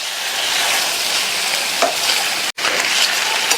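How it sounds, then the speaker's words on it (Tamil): Boiled plantain pieces frying in masala for a curry, a loud, steady, close sizzle with occasional tossing and scraping sounds and one abrupt momentary cut. "வேக வச்ச வாழைக்காயை இதில் சேர்த்துட்டு இந்த மசாலால நல்லா பிரட்டி விட்டுக்கங்க"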